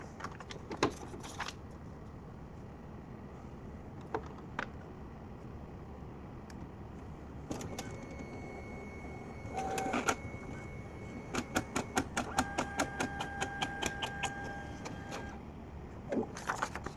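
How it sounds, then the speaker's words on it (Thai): A Brother DCP-T520W inkjet printer pulls in paper and photocopies after a paper-feed roller replacement, giving quiet mechanical whirs, then a burst of rapid rhythmic clicks and a high motor whine, followed by a final clunk. "เดี๋ยวผมจะลองถ่ายเอกสารดูนะครับ"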